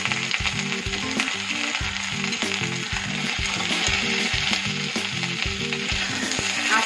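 Ginger and green chillies frying in oil make a loud, close, steady sizzle with a rapid rhythmic clatter running underneath throughout.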